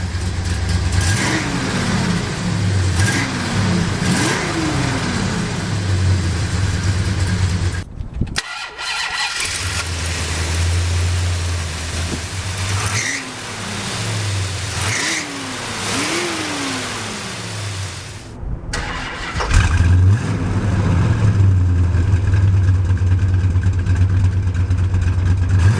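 A 1970 Plymouth Road Runner Superbird cranks and fires up, its big V8 settling into a loud, lumpy idle with repeated throttle blips, cutting off briefly and then restarting into a rumbling exhaust note.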